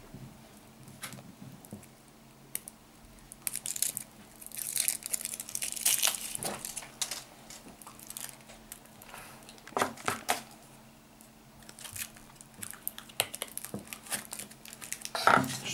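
Foil wrapper of a small Kinder Surprise chocolate egg crinkles and crackles up close in irregular bursts, with soft rustling and occasional sharp crinkles, no talk.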